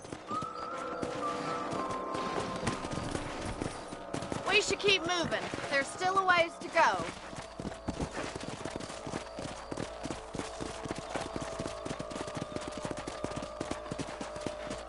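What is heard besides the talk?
horses galloping, hooves clip-clopping, in the video game Red Dead Redemption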